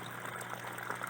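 Water draining from a large fish breeding tank holding big breeder fish, a steady close-up pouring, trickling rush that continues unbroken throughout.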